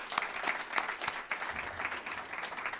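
Audience applauding District Attorney Nathan Vasquez at an evening community conversation in Multnomah County, a steady wash of clapping from a room of people lasting the whole stretch, fairly close, with no speech over it.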